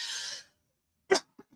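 A single short, sharp cough bursts out after a brief hiss, followed by two faint little catches of breath, close to the microphone in a quiet room.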